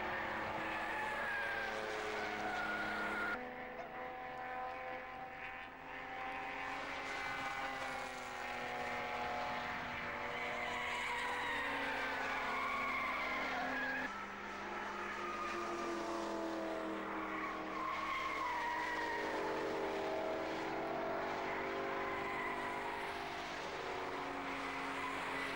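A BMW 635 CSI saloon with uprated suspension and a standard engine races at a 1991 BRSCC road saloon event. Its loud, continuous engine note rises and falls in pitch as it passes, with no talk over it.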